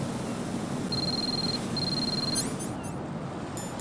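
A telephone call rings in Metal Gear Solid 2 as two thin, steady electronic tones under faint background hiss, followed by a few short, bright chirps near the end.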